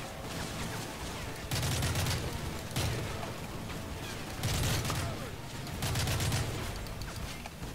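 Repeated bursts of covering gunfire in Call of Duty MW3 hammer out in rhythmic rapid-fire volleys, four loud bursts separated by brief quieter gaps of battle noise.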